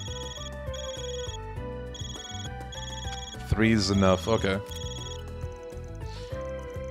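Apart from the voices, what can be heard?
phone ringing in video game Trails Through Daybreak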